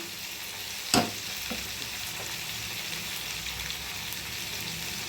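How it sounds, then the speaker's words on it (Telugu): Cumin and coriander seeds dry-roasting in a small pan give a steady, fairly quiet sizzling hiss, with one sharp scraping stir near the start and faint stirring scrapes afterward. "లైట్గా వేయించేసుకొని వేయించేసుకున్నాం కదండి."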